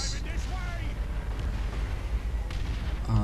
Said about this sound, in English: 3 out of 4 rockets actually hit them